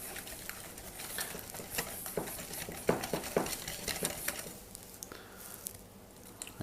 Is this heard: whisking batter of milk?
yes